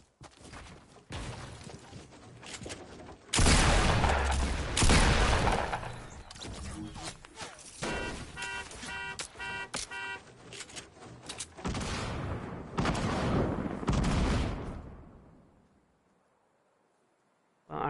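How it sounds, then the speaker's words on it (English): Gunfire in the video game FortyNites: Showdown, with several loud bursts of shots, crashes and busy game sounds spread through the clip, plus a patch of tonal game noise in the middle before everything fades to near silence. "Well, I heard him shooting."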